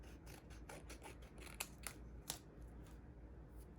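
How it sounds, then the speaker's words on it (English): Quiet, close-up snips of scissors cutting paper, a quick series of short crisp cuts with soft rustling between them. "Try not to get too much adhesive on my scissors."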